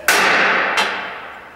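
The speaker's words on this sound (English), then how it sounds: "You grab your hammer and one good hit" Two sharp metallic strikes of a hammer on a center punch set against metal in a workshop, a loud ringing hit followed by a second quicker tap, each decaying with a short clang.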